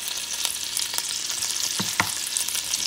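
Meat for a Creole-style jambalaya fries in hot oil with a bright, continuous crackle, punctuated by a couple of stirring scrapes, close and without talk.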